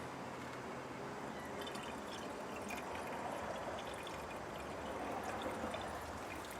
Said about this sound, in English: so I'm going to fill this hose up